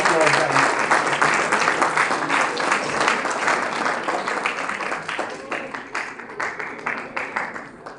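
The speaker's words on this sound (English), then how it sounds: "Please welcome everyone with a huge round of applause." Audience applause at a college convocation ceremony, a dense sustained wash of many hands clapping that thins slightly toward the end, with some crowd murmur mixed in.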